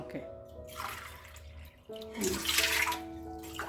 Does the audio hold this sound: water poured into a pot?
yes